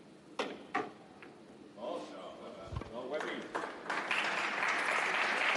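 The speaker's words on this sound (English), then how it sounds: "The crowd encouraging Stephen Weber quite rightly" A crowd at a 2017 World Pool Masters match applauds in scattered claps that swell into sustained clapping, with a commentator talking over it.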